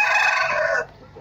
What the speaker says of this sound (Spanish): Son gallinas inglesas con asil.